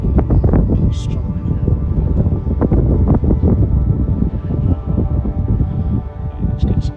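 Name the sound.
strong wind blowing up a valley while paragliding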